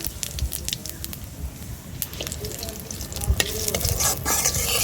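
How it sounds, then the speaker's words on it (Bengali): Bay leaf, dried red chili and whole cumin crackle and sizzle in hot oil left from frying eggplant, with steady close spitting and a few stirring scrapes and pops throughout. "তেলের উপর তেজপাতা, শুকনো লঙ্কা, গোটা জিরে দিয়ে দেব"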